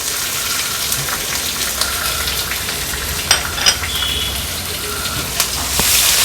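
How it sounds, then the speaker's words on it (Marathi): Onion goes into a hot oil tempering of asafoetida, mustard seeds, cumin and curry leaves for a cauliflower and pea dish, making a loud, continuous close sizzle with a few sharp pops and stirring clinks. "आपण हा कांदा फोडणीला घालूया"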